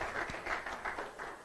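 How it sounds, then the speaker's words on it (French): Applause from a conference audience, light clapping at low level for a brief moment with no talk over it. "Mesdames et messieurs, merci de l'applaudir."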